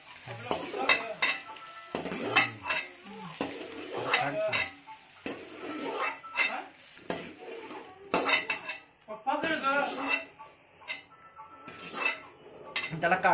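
Metal spoon scraping and clanking against a hot pan while pohe is stirred, bursts of stirring broken by short pauses, with a soft sizzle of frying underneath and no voices.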